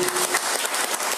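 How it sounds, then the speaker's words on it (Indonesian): A church congregation claps at the preacher's call for lively applause, a short burst of dense, even clapping with no speech. "Coba tepuk tangan dulu yang meriah."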